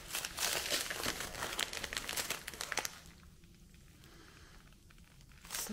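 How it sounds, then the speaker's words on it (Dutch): A heavily taped Sinterklaas gift being unwrapped, with wrapping paper loudly crinkling and tearing in dense bursts for about three seconds before the rustling drops to quieter handling. "Nou, zullen we eens een cadeautje uit gaan pakken?"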